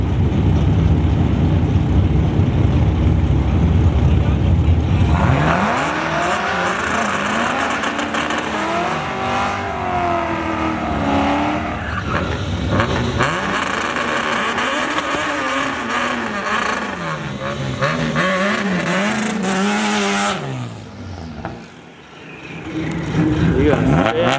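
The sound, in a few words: Honda Civic racing a Corvette on a race track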